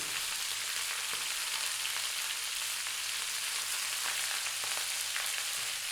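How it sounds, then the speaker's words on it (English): Steady, close sizzling of onion and salt frying with chunks of lamb in a hot pan, a continuous bright hiss with faint stirring scrapes and no talk. "What we're going to do now is drop in our onion, some salt,"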